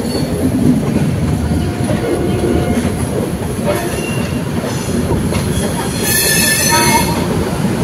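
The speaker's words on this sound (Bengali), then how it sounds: "আমাদের ট্রেন 1 ঘন্টা 10 মিনিট লেট করে অবশেষে হাওড়ার 19 নম্বর প্ল্যাটফর্মে এসছে।" The Shatabdi Express rolling in close by to platform 19 at Howrah station, wheels rumbling and rattling over the rails, with a sharp high squeal of brakes near the end.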